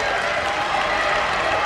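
Crowd noise swells steadily through the stands at a college mile race on the last lap, a continuous broad roar of cheering and clapping with no clear pauses.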